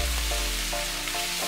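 Onions and curry leaves sautéing in a pan, heard as a dense, continuous sizzle with a faint tonal hum beneath and a few light stirring scrapes over a short stretch.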